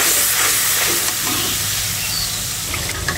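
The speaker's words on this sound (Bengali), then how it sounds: "এটা দিয়ে মশলাটা আমি ভালো করে কষিয়ে নেব" Spice paste with ground coriander, cumin and a splash of hot water is sautéed in a pan for a katla fish curry, giving a loud, continuous close hiss and sizzle with faint stirring.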